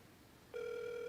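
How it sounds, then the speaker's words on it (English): A telephone call begins ringing, a steady electronic ring tone with clear overtones starting abruptly after a short pause of quiet room noise and continuing unbroken at moderate volume. "Oh, it's ringing."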